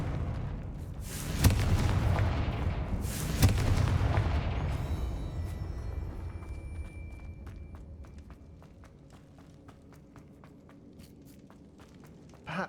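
Confringo spell blasts in Hogwarts Legacy boom twice in quick succession, deep and forceful, each followed by rumbling decay, then fading into quieter ambience with scattered clicks and footsteps.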